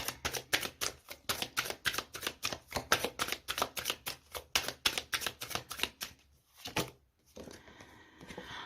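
Tarot cards are shuffled by hand in a fast regular riffle of crisp slaps, close and clear, which stops near the end before a softer rustle as a card is drawn.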